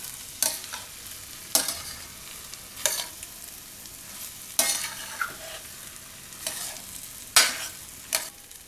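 Bhurji fried rice stirred and fried in a pan: soft steady sizzle broken by about eight scraping strokes of a spoon, close and alone with no talk.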